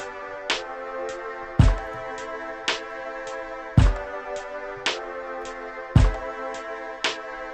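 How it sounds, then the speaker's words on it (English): A brass sample combined with a drum loop forms the opening beat of a track, sustained brass tones punctuated by regular punchy kick hits about once a second, played alone. "It's like a brass combined with a drum loop and it sounds like this."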